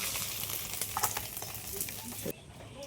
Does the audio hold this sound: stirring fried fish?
yes